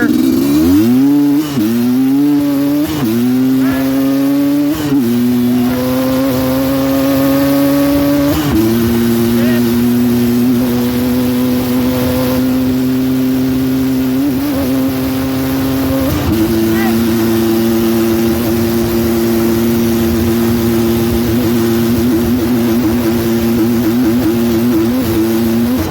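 A Suzuki LT250R ATV engine revving hard in first gear, its pitch climbing in steps and then holding a loud, steady drone, with a voice heard occasionally over the close engine noise.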